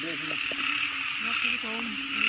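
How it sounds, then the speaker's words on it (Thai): A frog croaks in short, repeated calls over a steady high insect drone outdoors, the croaks fairly close and clear. "ได้ยินเสียงกบ"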